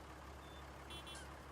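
Reversing beeps from a small tractor in Farming Simulator 19, a faint high intermittent beeping over a low steady engine hum, quiet and without talk.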